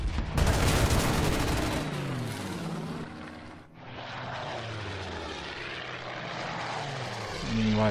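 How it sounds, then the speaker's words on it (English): Propeller warplanes roar close by in the World War II strategy game Order of Battle, set in the Donbass, with engine drone sweeping past loudly, fading briefly, then returning amid rattling gunfire. "Now the Russians have a lot of planes."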